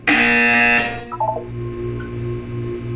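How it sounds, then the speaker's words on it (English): A loud electronic buzzer from the video game Portal 2 sounds in one steady sustained blast for nearly a second, then drops away into a low background hum with a few faint tonal blips. "You will hear a buzzer."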